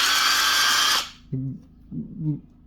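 A Forte cordless impact wrench whirs loudly for about a second, then cuts off, followed by a few quieter low thuds and hums as it winds down and is handled.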